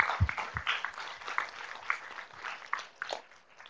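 Audience applause at a public meeting on chronic pain drug development, scattered claps rising and falling at moderate level with a few low thumps, no talk over it.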